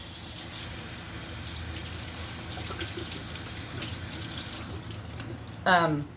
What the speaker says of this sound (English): Let me rinse this lettuce.